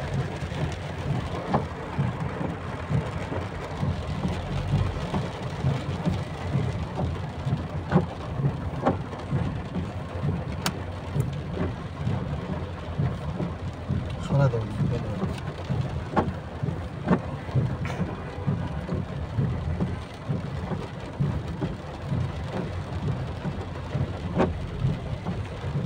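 Rain falls steadily around a car being driven, a dense, continuous patter and wash over a low road rumble, with scattered sharper drops throughout.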